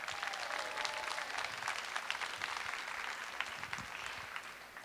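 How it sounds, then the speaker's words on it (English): Sustained applause from a crowd, steady dense clapping that fills the whole stretch without any talking. "so let's give them a round of applause too"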